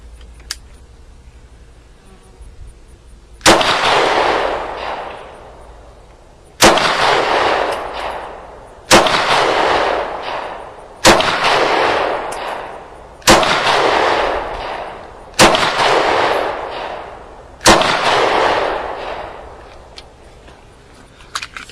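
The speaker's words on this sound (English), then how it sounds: "I'm going to be shooting at the middle target" Seven single shots from a Ruger LC9 pistol fired at a target, each a sharp loud crack followed by a decaying ring, spaced about two seconds apart, with no talking.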